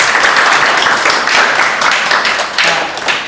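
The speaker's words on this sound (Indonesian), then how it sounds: "Kita kasih aplaus buat mereka." A class applauds a student group after their presentation, dense steady clapping from many hands filling the room at moderate loudness, with no talk over it.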